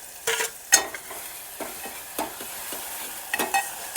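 Onions fry in a pan while tomato paste is stirred in, with a low, quiet sizzle broken by intermittent scraping strokes of a spoon, a few sharper clinks near the start and again toward the end.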